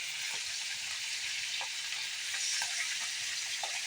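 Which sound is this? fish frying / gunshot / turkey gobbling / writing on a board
fish frying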